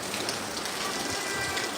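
Monsoon rain and wind in Kozhikode make a steady, dense, close hiss that holds evenly without a break.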